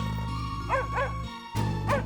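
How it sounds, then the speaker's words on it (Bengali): A dog barks several times in short, strained yelps with pauses between, fairly close, over a steady low hum. "কুকুরটা আবার ঘেউ ঘেউ করছে কেন"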